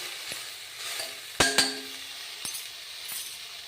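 Food frying in a spoonful of oil in a pan, a soft steady sizzle with a couple of sharp metallic clinks from a spoon against the vessel midway, quiet and close.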